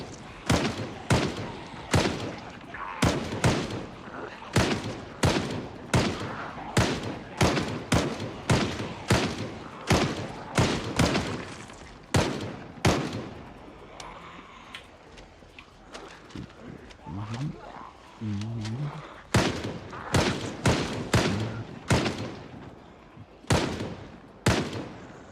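Firearms in the Project Zomboid video game fire a long run of loud, close, evenly spaced shots, each a sharp crack with a short tail, pausing briefly midway, while someone talks over them.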